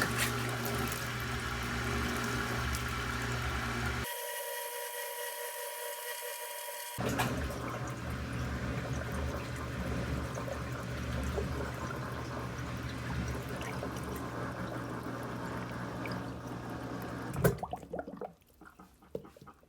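Rinse water in a small Della Kuppet portable washing machine, a steady sloshing and churning broken by a few seconds of quieter, higher-pitched running, then an abrupt stop near the end.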